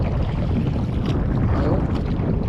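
Rough sea water sloshing and rushing against a small boat at close range, a loud continuous roar of water mixed with wind buffeting the microphone, no voices.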